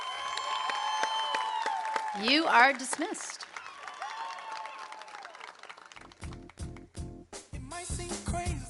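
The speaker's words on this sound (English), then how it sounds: "Seniors, one round of applause for our class of 2020." At a school Founders Day ceremony, an audience claps for the senior class of 2020. A voice speaks first, then scattered clapping breaks out toward the end.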